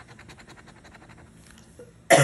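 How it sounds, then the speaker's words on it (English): A single loud, harsh cough bursts out near the end, close and alone, following a quiet stretch of faint background murmur. "I still have this cough."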